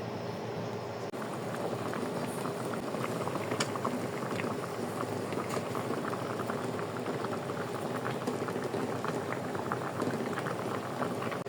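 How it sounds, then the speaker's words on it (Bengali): Vegetables boiling in a pot of water to be mashed for bharta, a steady, close bubbling and rolling simmer that continues evenly throughout with no voices. "আর এদিকে সব কিছু ভর্তা করার জন্য আমি সিদ্ধ বসাই দিছি"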